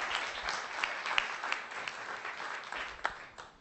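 An audience at a panel discussion on Canada's housing market and home ownership applauds the panelists and moderator, with continuous clapping from a seated crowd at moderate distance and a few sharper individual claps.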